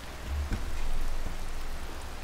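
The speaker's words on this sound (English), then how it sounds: "Oh, it's fucking raining!" Steady rain pours down in the video game Zelda: Tears of the Kingdom, a dense, even hiss of falling drops that carries on alone throughout.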